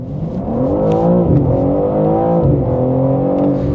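A BMW M3 Competition xDrive surges hard on kick-down, its engine note climbing in a loud, steady rising howl with gear-change dips, heard close and alone without any talk.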